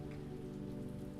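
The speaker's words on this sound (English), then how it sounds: "the rain outside has begun to taper off" Steady rain falls outside in a quiet, ancient stone hall near high windows, a dense, even patter that continues without a break throughout.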